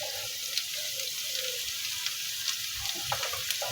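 Small fish frying in a pan with garlic and cumin, a steady close sizzle with faint crackles and a few soft stirring clinks, no talk.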